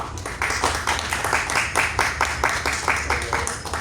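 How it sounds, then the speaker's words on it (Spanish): A small audience claps at a book presentation at a fair, steady moderately paced clapping from a modest crowd, fairly quiet and evenly rhythmic, with no talk over it. "pido por favor fuertes aplausos"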